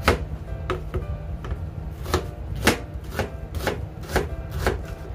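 Kitchen knife chopping onion on a cutting board, a steady series of about ten crisp, close, separate chops at a moderate pace, with nothing else heard.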